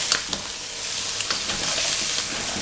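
Calamari and green peppers frying in a pan, a dense close sizzle broken by repeated clicks and scrapes as the pieces are stirred.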